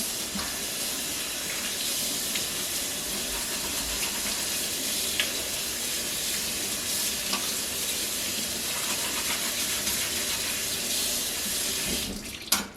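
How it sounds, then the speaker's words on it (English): Tap water runs steadily into a kitchen sink while a barbecue-sauce-stained tablecloth is rinsed, a constant broadband splashing hiss with small clinks near the end. "So let's go over to the sink and we'll take care of that."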